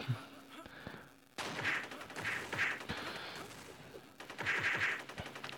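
Rapid bursts of automatic gunfire crackle in the online shooter Lost Guns, several volleys spread across a few seconds with quieter gaps between, while players talk faintly in the background.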